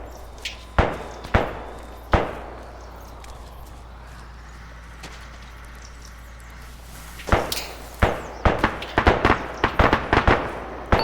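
High-caliber gunfire in a military video game: a few separate, sharp shots early on, then a dense run of rapid reports toward the end, fairly loud against a low steady background with no voices.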